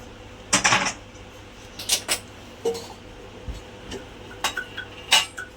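A wok (kadhai) is set down on a kitchen stove while moong dal bhaji are being prepared. Several close, sharp metallic clanks and clinks are scattered through a quiet room.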